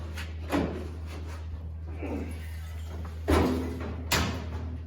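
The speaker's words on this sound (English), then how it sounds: "Now I gotta figure out how to pick this door up again because it is super heavy." A heavy steel door from a classic truck being lifted and handled, with a few dull metallic thumps and knocks separated by quiet handling over a steady low hum.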